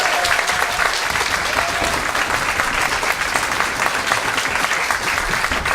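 Loud, dense audience applause for a speaker at an end-of-year special event, a continuous close wash of many clapping hands with a faint whistle near the start.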